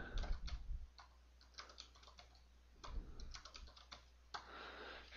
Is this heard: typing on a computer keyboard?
yes